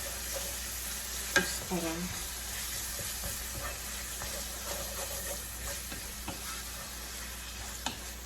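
Minced beef with parsley sizzling in a hot pan while a utensil stirs and scrapes through it, a steady frying hiss broken by a few sharper knocks, with a brief spoken word.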